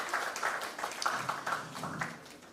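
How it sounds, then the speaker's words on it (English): An audience at a World Environment Day seminar claps briefly, a moderate patter of many hands heard from within the room and fading toward the end. "A big round of applause,"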